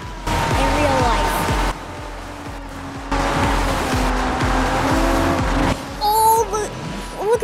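A racing car roars at high speed during a super boost in the Asphalt 9: Legends video game, its engine droning in rising and falling pitch sweeps with brief drops and tire squeals near the end.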